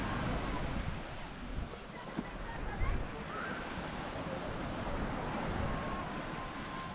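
Sea waves at the beach at Cala Millor, Mallorca, a steady broad wash of surf with wind buffeting the microphone, continuous and fairly close, with a faint voice underneath.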